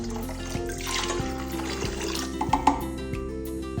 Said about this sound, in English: The remainder of the water.